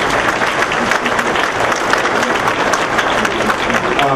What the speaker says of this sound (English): So you give them a round of applause